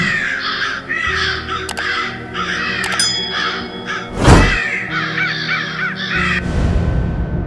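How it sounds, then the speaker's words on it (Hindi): Many crows caw repeatedly in overlapping, harsh calls, loud and close, with a few sharp thunks and a brief rushing burst partway through, and no voices. "बाहर बहुत सारे कौओं की आवाजें आने लगी।"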